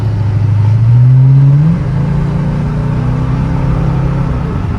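A car engine revs up sharply, climbing in pitch for about a second before dropping back to a steady loud hum, close and alone without voices.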